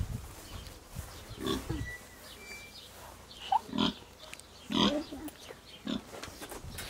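A pig on a farm grunts several times in short, irregular bursts at close range, with soft background noise between the calls.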